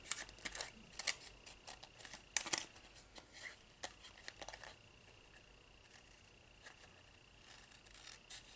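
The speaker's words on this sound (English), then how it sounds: "and then you can go ahead and cut that off" Scissors cutting through material while assembling a paper folio craft, a quick series of close snips and crisp clicks over the first few seconds, then faint handling noise.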